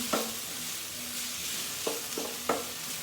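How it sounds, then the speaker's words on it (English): Chunks of onion sizzle steadily in a hot pan, with several clicks and scrapes of stirring scattered over a constant frying hiss. "I'm going to add a bit of onion to this. Chunks of onion."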